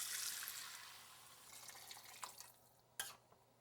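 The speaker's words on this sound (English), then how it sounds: "Then we're gonna add some water to thin it down." Water poured into a pot of vegan chili gives a soft, steady hissing splash that fades over a few seconds, followed by a couple of faint drips or clinks at the end. Quiet and close.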